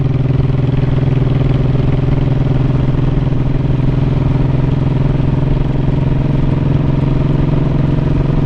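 Motorcycle engine idling steadily, a constant low, close rumble with light mechanical clatter that holds unchanged throughout.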